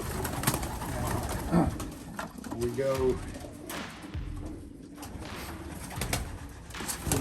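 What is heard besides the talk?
pigeons cooing in a loft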